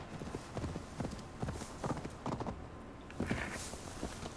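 Horse hooves clip-clopping in Assassin's Creed Valhalla, a steady rhythmic run of hoofbeats at moderate loudness with a brief lull partway through.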